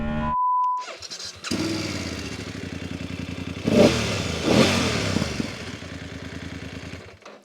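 BMW F850 GSA motorcycle engine in first gear, a brief tone and pause, then the twin idles with a rapid, even throb and rises in two loud revs before settling back, close by.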